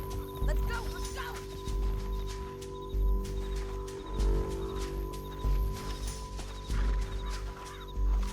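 Horse hooves clip-clop in Red Dead Redemption 2 in a steady, moderately loud rhythm, with a low game soundtrack and shouted dialogue over them.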